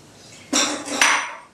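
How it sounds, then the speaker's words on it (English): Tofu being crumbled in a bowl gives two close, loud bursts of rough, crunchy clatter, each fading out, with nothing else heard. "here's our second half of our tofu, which I'm going to crumble up as well."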